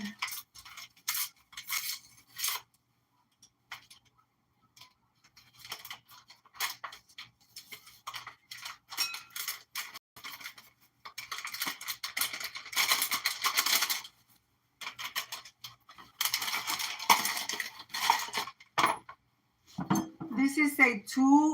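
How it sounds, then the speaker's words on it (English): A spoon or whisk stirs instant pudding mix into three cups of cold milk in a bowl, scraping and clinking against the side in bursts, close by, with short pauses between. "Add the package and stir."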